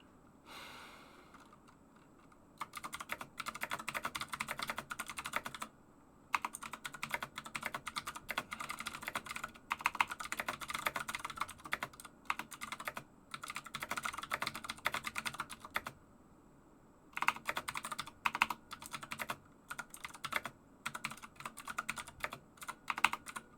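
Rapid clicky computer keyboard typing comes in long bursts separated by short pauses, close and fairly quiet, with occasional soft breaths.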